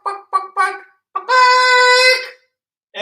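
Voices imitate chickens: a few short clucks followed by a long, drawn-out squawk, then another cluck starting at the end.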